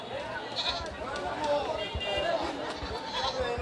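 Goats bleat repeatedly amid steady crowd chatter at a busy weekly cattle and goat market at Niamatpur bazar in Kishoreganj, with kid and adult goats present and voices of buyers and sellers throughout.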